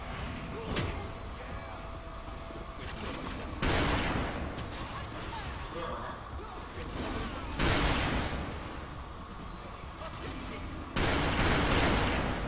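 Gunfire in the C9 PvP guild battle, a steady clatter of distant shots under game noise, with three louder broadband bursts landing roughly every four seconds.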